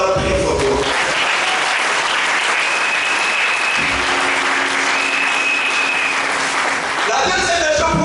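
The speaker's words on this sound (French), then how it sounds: "Ça s'acclame très fort." A church congregation at a Sunday service applauds loudly, with dense, sustained clapping and some crowd noise filling the whole stretch.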